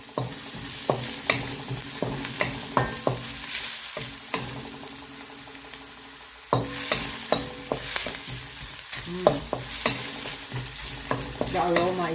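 Garlic and onions sizzle in a hot pan while a utensil stirs and scrapes them in irregular, close clinks and scrapes, with quieter stretches of steady frying between the stirs.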